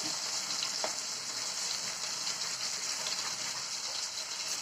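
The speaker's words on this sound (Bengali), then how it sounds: "এই কড়াতে মাছ ছাড়লাম, ইলিশ মাছ ভাজা হবে" Hilsa fish frying in a wok, an even, dense high-pitched sizzle that holds steady throughout with a few faint pops, close up and without voices.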